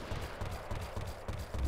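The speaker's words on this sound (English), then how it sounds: "he's firing at me" Enemy gunfire in the video game Fortnite Mobile, heard as a fast run of repeated low shots at a steady rhythm, fairly loud, continuous through the moment.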